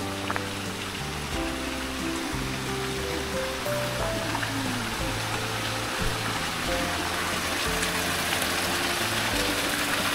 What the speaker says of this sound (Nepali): यो नै छ गाउँको धारा